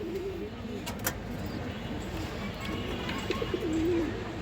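Pigeons of mixed fancy and high-flyer breeds coo in low, soft rolling calls through a steady murmur of outdoor background noise, with a clearer drawn-out coo near the end.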